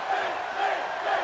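A virtual wrestling arena crowd in WWE 2K18 roars and cheers steadily during a match, a dense, continuous wash of voices.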